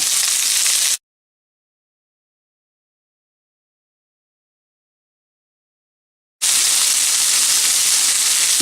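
Bell peppers and onion fry in hot oil over a high flame, a loud bright sizzling hiss that drops to dead silence for several seconds, then returns just as strong.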